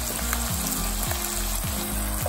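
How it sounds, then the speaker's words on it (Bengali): Coconut milk goes into a shrimp and arum-lobe curry sizzling in a pan, producing a loud, continuous frying hiss that stays close and steady throughout. "একটু নারকেলের দুধটা দিয়ে দেওয়া হচ্ছে"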